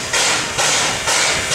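A retro steam locomotive starting off at a Kharkiv railway station during a railway workers' holiday lets out three loud, close bursts of broad hissing steam in a steady rhythm, each blast swelling and easing.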